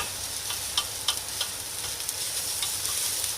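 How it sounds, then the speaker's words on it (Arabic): Rice fries in a little fat in a stainless steel pot over low heat, a continuous soft sizzle broken by scattered scraping clicks as a utensil stirs it, close and with no talking. "هفضل اقلب كده لحد ما الرز يتشرب من الماده الدهنيه"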